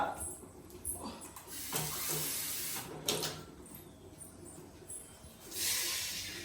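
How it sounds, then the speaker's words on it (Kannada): A glassful of water splashes and pours into a metal pan in uneven bursts, with clinks and handling noises between pours, fairly close and moderately quiet. "ಒಂದು ಲೋಟ ನೀರು ಹಾಕಿ,"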